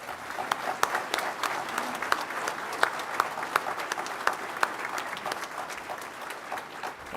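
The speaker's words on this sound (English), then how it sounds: "Please join me in a resounding round of applause to thank all men and women who have served our country." Applause at a college commencement ceremony honoring military service members, a sustained crowd of clapping hands with sharp individual claps standing out, steady and moderately distant throughout.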